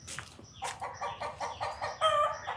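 A chicken clucks close by in a series of short, repeated cackling calls, loud and clear, rising to a sharper squawk near the end.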